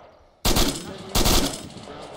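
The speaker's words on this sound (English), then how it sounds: "I'm pretty sure that was artillery" Two loud, close artillery shell blasts in an Arma military mission, each a sudden broadband crash with a rumbling tail, the second arriving under a second after the first, while voices talk faintly underneath.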